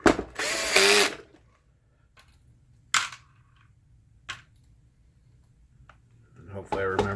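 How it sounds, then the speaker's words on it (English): A screw gun set low on its clutch drives screws back into a Mitsubishi WD720 television during repair, giving several sharp, separated bursts of whirring and ratcheting clicks, loud and close in an otherwise quiet room. "those I use the screw gun for, and I set it to 2 or 3 on the clutch"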